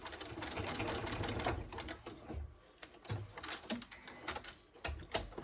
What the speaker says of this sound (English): and sew it one more time each direction.